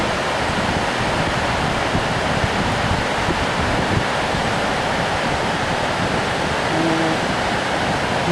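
Rapids of a small but fast mountain river in Hisui Gorge, Itoigawa, churning in a steady, loud broadband roar of rushing water that holds constant throughout with no voices.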